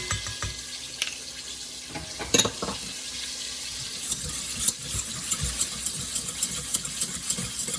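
Sweet and sour sauce made with soy sauce is poured into a hot pan for chicken, giving a soft sizzling, bubbling wash with a few clinks and clatters, close and moderately quiet.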